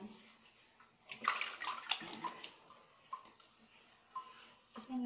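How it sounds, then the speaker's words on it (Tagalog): Water splashes and drips as a hand wets hair, soft wet sounds close by coming in short bursts, with some quiet talking in between. "Basain lang siya ng tubig sa sa kamay mo lang."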